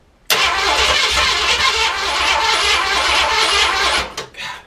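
A car engine cranks continuously and tries to catch, loud and close for about four seconds, then cuts off with a few brief sputters at the end.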